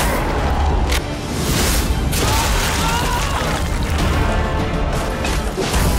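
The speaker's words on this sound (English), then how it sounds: "The light bomb is a much more offensive luminescent weapon. Its explosion triggers a powerful blast of light that wounds vampires" A light bomb explodes in the game Nosgoth with a loud, sustained roaring blast and crackling crash that fills the whole stretch, with brief surges layered on top.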